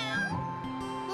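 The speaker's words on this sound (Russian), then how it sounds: "Это очаровательные котята Тити! Разве не милашки?" Kittens in a children's cartoon about buses give a short, high, bright meow, clear and close with no talk over it.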